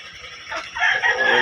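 A rooster crows once loudly and close, with hens clucking around it in a Negros farmyard in the morning.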